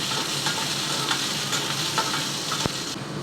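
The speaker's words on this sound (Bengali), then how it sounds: "এখন পেঁয়াজ কুচি, রসুন কুচি আর ছাদ বাগানের কাঁচামরিচ দিয়ে আমি একটু ভাজা করে নেব।" Chopped onion, garlic and green chillies from a rooftop garden sizzle steadily in hot oil in a pan, with soft stirring scrapes and one sharp clink near the end.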